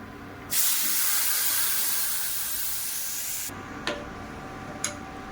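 Sudden loud hissing sizzle as pre-warmed milk hits a hot pan, steady for a few seconds, then cut off, followed by two light clinks.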